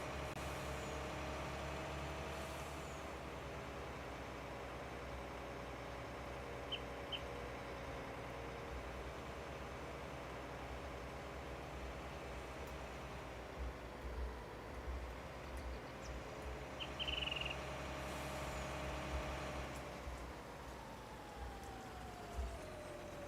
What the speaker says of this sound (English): Come on, truck.